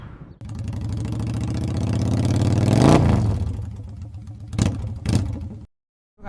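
A 2024 CFMoto 450MT adventure motorcycle engine revs up on the move, climbing steadily to a loud peak before easing off, then two short sharp blips near the end, with no talking.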